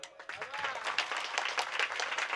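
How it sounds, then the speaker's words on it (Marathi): An audience claps along at a Marathi hari kirtan devotional gathering, with soft, scattered handclaps under a voice and music, fairly faint and uneven. "जरा सगळ्यांनी टाळ्या वाजवा की."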